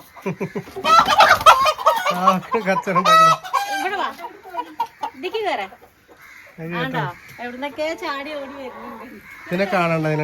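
Several chickens cluck and squawk close by in bursts as people chase them, with a rooster-like crow among them and occasional background voices.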